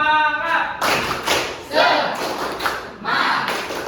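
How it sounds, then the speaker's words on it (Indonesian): A classroom of students claps in a rhythmic chant pattern, bursts of hand claps and thuds mixed with voices calling along together, fairly loud and close. "Tepuk semangat."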